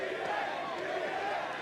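Crowd cheering at a League of Legends All Stars 2015 esports event, a dense, steady roar of many voices filling the hall, continuous and moderately loud throughout.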